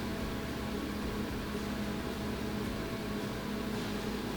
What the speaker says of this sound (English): I'm sorry guys if you hear a fan